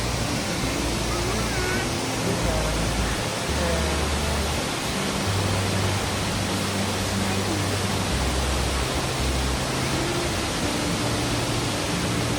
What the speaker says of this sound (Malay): Kuat kan air dia kan? Deras air dia.